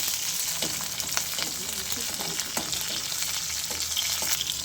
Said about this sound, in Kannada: ಮೆಣಸಿನ್ಕಾಯಿ ಈ ಥರ ಫ್ರೈ ಆಗಿದೆ